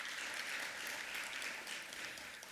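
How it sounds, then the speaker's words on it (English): A faint, continuous round of audience applause at a SALGA Mpumalanga conference session, even and unbroken throughout with no voices on top. "April a round of applause."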